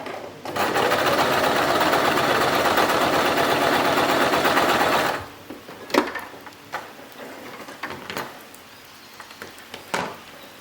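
Brother X3 domestic sewing machine running a zigzag stitch, a loud steady mechanical whirr for about five seconds, then stopping, followed by scattered faint clicks and handling knocks.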